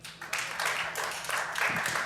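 Audience applause at a French stand-up comedy show, a moderate wash of scattered clapping that rises after a brief pause and continues steadily for about two seconds.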